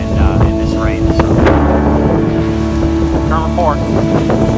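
Hurricane Irma rain and wind on a street, a loud steady roar of wind-driven rain with gusty rumbles, while someone talks over it throughout.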